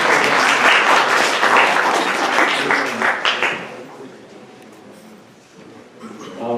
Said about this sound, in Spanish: Démosle un fuerte aplauso a nuestro profesor